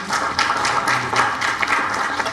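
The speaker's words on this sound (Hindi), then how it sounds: "एक बार चाहूँगी कि जोरदार तालियां" Applause from an audience at a government event marking 100 days, a steady patter of many hands clapping throughout, moderately loud and unbroken.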